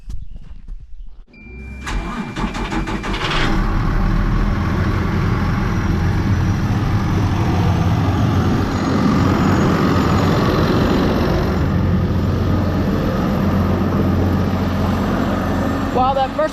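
A Versatile tractor engine idles while warming up on a vegetable farm, ready to pull a bedder for potato planting. After a brief quiet start, a loud, steady, low mechanical rumble runs on continuously, close by.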